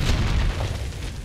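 A C4 charge detonates in Call of Duty: Modern Warfare III with a deep, rolling boom that fills the whole short moment, heavy low rumble dominating with no talking.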